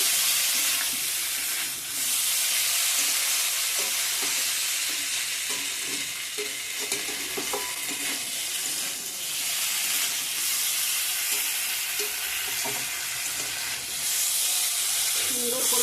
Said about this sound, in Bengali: কষিয়ে নিচ্ছি মশলার সঙ্গে ফুলকপি আলু